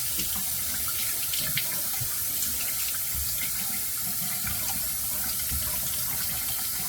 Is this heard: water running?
yes